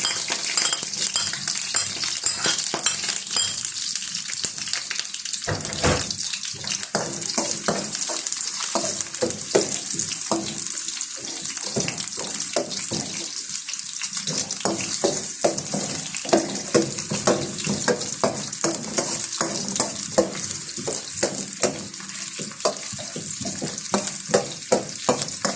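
Garlic and onion frying in a hot pan on a stove, a loud continuous sizzle close by, punctuated by frequent clinks and scrapes of a spoon against the pan, no voices.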